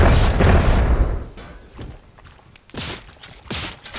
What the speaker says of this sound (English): Seems like there's explosions going everywhere